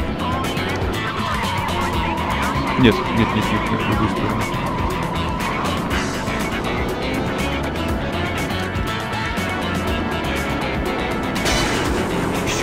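Cars chasing a red coupe in the Starsky & Hutch video game, loud engines revving with tire squeals and skids, a sharp crash thump early on, and a voice repeating a word in rising alarm.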